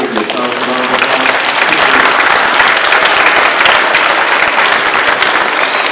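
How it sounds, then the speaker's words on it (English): Audience at a Massachusetts Teacher of the Year award ceremony in an elementary school, applauding in a dense, loud, sustained burst of clapping from many hands that continues steadily throughout. "Please give yourselves a round of applause."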